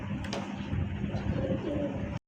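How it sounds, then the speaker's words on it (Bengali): American fancy pigeons of red indigo colour cooing in soft low murmurs, close by, with faint background noise and no clear talk. "মাশাআল্লাহ আমেরিকান শৌখিন কবুতর রেড ইন্ডিগো কালার"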